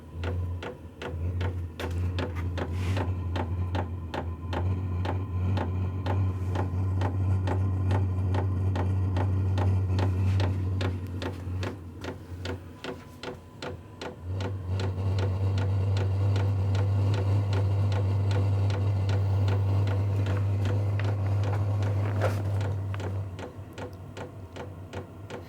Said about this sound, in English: there's the fuel pump